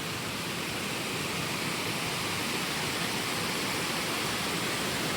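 Bokad waterfall at Vajreshwari roars in a dense, constant rush of falling water, loud and close with no breaks or voices throughout.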